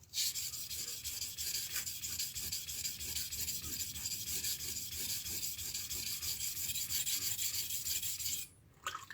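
A knife that is not the sharpener's own is worked over a 400 grit whetstone, giving a continuous, close, gritty rasping with rhythmic back-and-forth strokes and no talking, ending with a short break.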